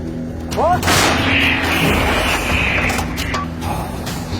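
An artillery cannon fires: a single heavy boom erupts and rolls into a long, loud rumbling blast that slowly decays, with a faint voice and a brief whistle just before it.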